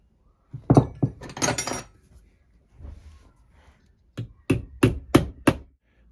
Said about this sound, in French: je m'aide souvent d'une clé comme ça pour commencer à les enfoncer